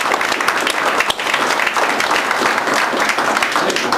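An audience at a forum meet and greet applauds with steady, dense clapping from many hands, loud and continuous throughout without a break.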